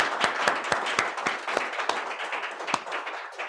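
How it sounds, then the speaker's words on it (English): Applause after a talk, a modest audience clapping with sharp individual claps standing out in a loose, uneven rhythm, fairly close and fading slightly over a few seconds. "Let's give them another round of applause."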